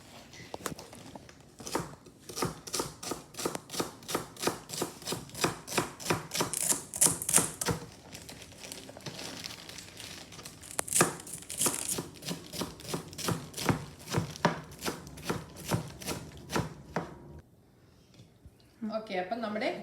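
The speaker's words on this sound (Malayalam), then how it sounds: "നമ്മുടെ സാധാരണ ചീരകൾ അരിയുന്ന പോലെ തന്നെ ചെറുതായിട്ട് അരിഞ്ഞെടുക്കാം നമുക്ക്" US spinach is finely chopped with a knife in quick, even strokes, a steady run of crisp taps with a short lull midway before the rapid chopping resumes and then stops.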